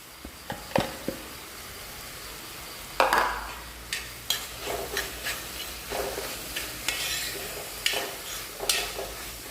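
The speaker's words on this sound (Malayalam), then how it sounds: "നന്നായിട്ടൊന്ന് ഇളക്കിയിട്ട് മൂടി വെച്ച് കൊടുക്കണം" Prawns are stirred with noodle masala powder in a pan. A soft sizzle runs underneath as a spatula scrapes and knocks against the metal in a steady series of close, rhythmic strokes.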